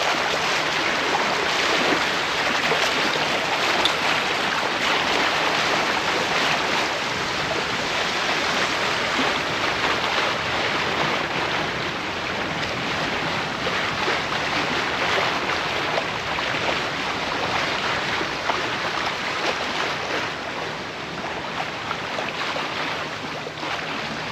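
A sailboat slicing through open water at about a 70-degree wind angle in light wind during a Swedish sailing trip, giving a steady, loud wash of rushing water and hull noise with no talk.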